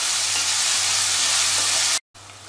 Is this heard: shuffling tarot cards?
no